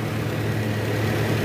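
A Toyota Innova petrol engine idles steadily at around 1000 RPM after an oil-leak repair, a close, even low hum with a smooth constant rumble and no speech.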